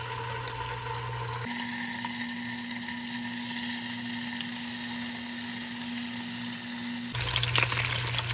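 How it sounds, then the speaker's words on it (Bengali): Chicken drumsticks fry in hot oil for a Bangladeshi wedding-style chicken roast, a steady close sizzle that runs throughout and swells louder near the end, with a faint hum in the background and no talking. "তেল গরম হয়ে গেলে আমরা আমাদের মুরগির রানগুলোকে আমরা তেলে ভেজে নেব ভালো করে।"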